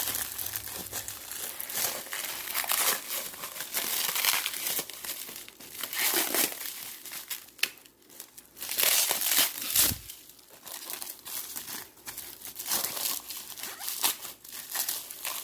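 A new custom intake for a WBB3 is unwrapped from its plastic packaging, giving loud, close, continuous crinkling and crumpling with occasional tearing rustles and no speech.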